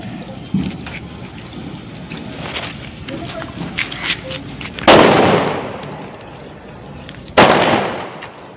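Two loud firecracker bangs burst a few seconds apart, each trailing off, while people talk in the background.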